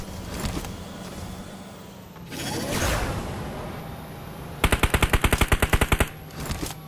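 A rapid burst of automatic gunfire in PUBG Mobile rattles off about a dozen sharp, evenly spaced shots near the end, following quieter in-game movement and mechanical noise, with no voices.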